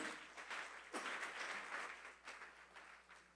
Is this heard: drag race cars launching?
no